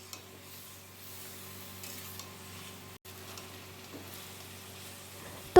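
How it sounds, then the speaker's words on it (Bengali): Small mourola fish sizzle quietly on a banana leaf in a pan while being stirred, a low, soft hiss with occasional scraping and rubbing, ending in a sudden loud knock. "এবার হালকা করে একটু নাড়াচাড়া করে কিছুক্ষণ ঢাকা দিয়ে রেখে দেব"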